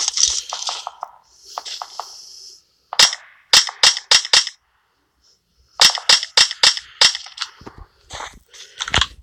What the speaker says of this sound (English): Why am I shooting that far?